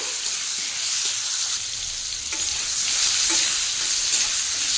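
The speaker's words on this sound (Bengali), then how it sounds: "এই তেলের মধ্যে আরও সবজিগুলো ভেজে নেব প্রথমে যেটা ভাজবো বেগুন" Eggplant frying in a pan of leftover oil while vegetables for a milk-free shukto are cooked, giving a steady close sizzle and crackle throughout with occasional stirring scrapes, no voices.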